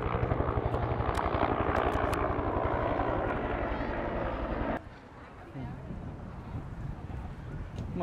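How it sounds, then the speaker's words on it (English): A helicopter passes overhead at a street cherry blossom festival in Washington DC, a steady thudding rotor drone that cuts off abruptly partway through, leaving quieter outdoor ambience behind. "Whoa, copter."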